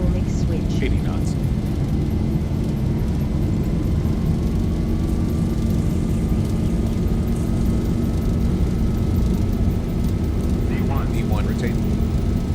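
Boeing 737-800 jet engines spooling up to takeoff thrust in the X-Plane flight simulator, a steady rising whine over a loud rumbling roar, with cockpit talk over it throughout.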